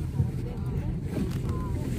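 A boat ride on the water at Srisailam, heard as a steady low rumble with gusting wind noise on the microphone. Indistinct voices sit faintly in the background.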